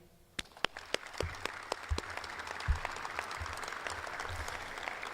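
Audience applause for a former women's basketball coach at a university program event, starting with a few sharp claps that build into sustained clapping from a crowd, with no talk over it.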